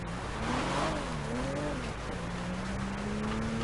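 A Fiat Doblo driven by Spider-Man in a game climbs steep hills, its engine humming steadily with rising and falling revs, fairly quiet and continuous with no talk.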